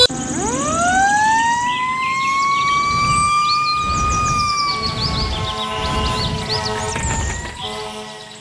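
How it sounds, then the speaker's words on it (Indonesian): A fireboat's loud siren winds up sharply and holds a long rising wail, then fades and shifts, with engine rumble underneath throughout. "Wow, kapal pemadam kebakaran."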